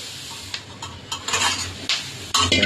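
Puffed rice (kurmura) chivda stirred in a pan, with a run of irregular scraping, rustling strokes and light clatter of the spoon against metal that grow louder toward the end.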